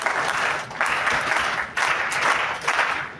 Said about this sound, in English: we'll go for a rhythmic clapping